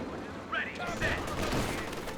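In a Company of Heroes battle, scattered gunfire crackles at mid-distance under a low rumbling battlefield ambience, with a commentator talking over it.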